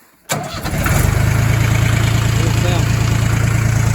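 The KM385BT diesel engine of a DongFeng 240 tractor cranks briefly, then catches and settles into a loud, steady rumbling idle close by.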